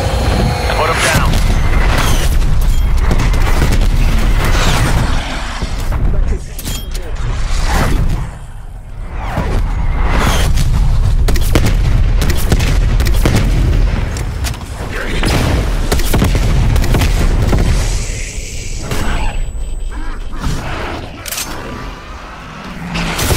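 Artillery strike explosions pound during Call of Duty: Black Ops zombies mode on the Cartel map, repeated heavy booms and whooshes in dense continuous battle noise, with voices heard over the chaos.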